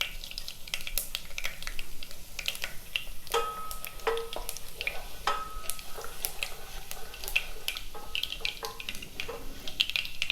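Cumin and fenugreek seeds crackle and pop in hot oil over a moderate flame, a steady close sizzle dotted with sharp snaps and stirring scrapes, no voices.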